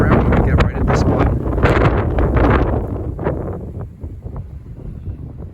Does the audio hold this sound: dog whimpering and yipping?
no